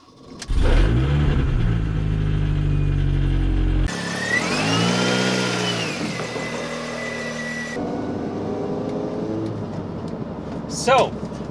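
A 2003 Mini Cooper S engine starts and revs close by, with a deep rumble that climbs in pitch as it accelerates, then settles into driving noise; a voice speaks at the start.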